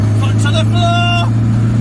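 A Reliant Robin three-wheeler's engine drones loudly at full throttle from inside the car, a steady low hum with someone talking over it.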